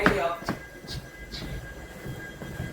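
A train at a railway station, heard as a low rumble of rail noise with a few squeals and clanks near the start that settles into a softer, continuous roll in the background.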